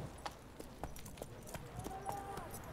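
Horse hooves clip-clop in The Witcher video game, a steady rhythm of soft, light hoofbeats under quiet game ambience, with a voice talking over them.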